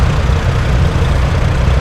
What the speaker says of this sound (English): Nice old Ford tractor.